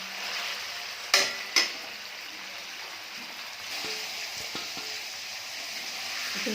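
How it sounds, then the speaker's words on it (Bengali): Paneer lightly frying in a pan gives a steady broadband sizzle throughout, with two sharp utensil clinks early on and a few softer taps and scrapes later, close and moderately loud. "তো এখন পনিরটাকে ভেজে নেওয়া হবে। বেশি ভাজলে হবে না, একদম হালকা করে ভাজতে হবে যাতে শক্ত না হয়ে যায়।"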